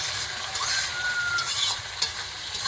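Tomato sizzling in hot oil while being stirred, with a close, even hiss broken by scraping strokes and a sharp clink near the middle.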